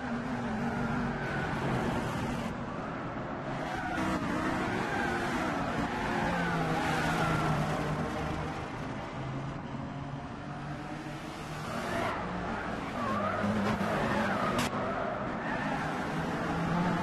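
Race cars, among them a Nissan GTR, roar along the Spa circuit in Gran Turismo 6, engine drone steady and loud throughout with shifting pitch as cars pass in a pack.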